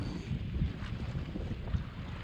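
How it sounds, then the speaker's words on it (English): Wind gusts buffet the microphone on a shoreline during a land-based mulloway fishing trip, a steady close rumble with low-pitched blustery swells and no talking. "I don't really like this wind, no."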